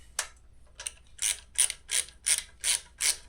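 A ratchet wrench tightens breather bolts on a Hammer Sportster 1275 motorcycle's air cleaner, with a string of six or seven crisp, close ratcheting clicks that come in an even, rhythmic run after a couple of short, hesitant strokes.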